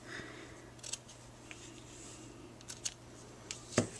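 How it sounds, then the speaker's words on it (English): Ribbon scissors snip ribbon for a handmade Christmas card, giving a few short, crisp cuts scattered across a quiet, close-up background with faint handling rustle. "Then I'm going to take my ribbon scissors"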